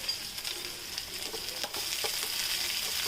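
Chopped onions and green chilies sizzle steadily in hot oil for tomato rice, with occasional stirring scrapes in the pan, close and soft.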